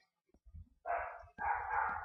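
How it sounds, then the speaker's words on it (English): Dogs bark in two drawn-out, muffled bursts, heard from another part of the house beneath low, thumping background noise. "And my dogs are barking."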